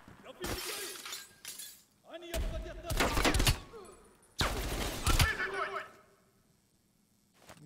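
Glass shattering under gunfire in the Call of Duty: Black Ops Cold War campaign mission Redlight, Greenlight, with three loud bursts of breaking glass and shots, a speaker talking between them.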